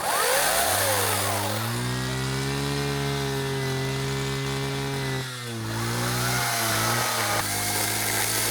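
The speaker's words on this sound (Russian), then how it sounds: "Вот это вот я казал, новая пила, вот эта вот ProCraft" A new ProCraft chainsaw running close by, starting with a sharp rev into a loud, steady high-pitched buzz, briefly dipping around the middle before revving back up, with no talking.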